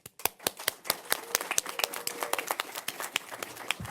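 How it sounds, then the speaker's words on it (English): A small group claps at a New York City cannabis legalization briefing marking a historic opening, sharp distinct hand claps in an uneven, sparse patter throughout, close and fairly quiet with no voices. "Another round of applause to celebrate this historic opening"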